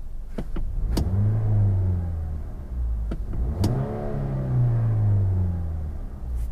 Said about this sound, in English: I wish it did rev up a little bit quicker.